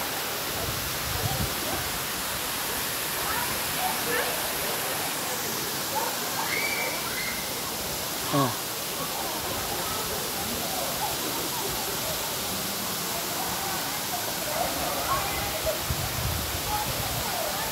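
The waterfall at Pé da Serra in Barra do Garças, Mato Grosso, pours with a steady, broad roar of rushing water, loud and unbroken throughout, with faint voices in the background.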